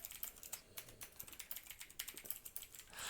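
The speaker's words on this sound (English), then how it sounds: "I was literally typing the phrase 3 out of 5 hammers in the notes field" Someone types on a computer keyboard, filling in a notes field: a steady, close run of quick, light key clicks with no voices.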